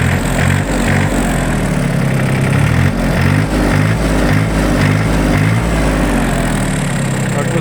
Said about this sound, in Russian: Выплюнув такое облачко дыма, двигатель запустился